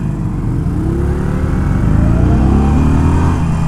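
Indian Scout and Harley-Davidson Sportster 883 cruiser motorcycles pull away hard from a stoplight together, a loud, close, steady engine drone climbing in pitch as they accelerate.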